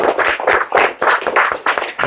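Classroom applause from students after a pair's podcast presentation, short bursts of clapping pulsing irregularly for a couple of seconds, fairly close and moderately loud.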